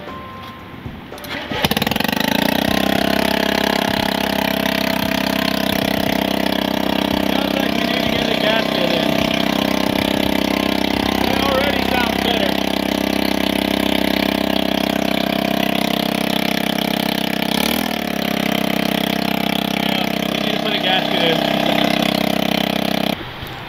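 Honda Metropolitan scooter engine starting and then idling steadily, a close, continuous putter with a brief dip near the end.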